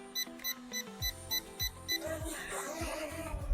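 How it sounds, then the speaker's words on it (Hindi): A toy quadcopter drone gives a string of evenly spaced, high electronic beeps before a flip, then a louder whirring rush of motor noise takes over near the end. "जब तक आप फ्लिप नहीं करा देंगे तब तक ये बीप करता रहेगा"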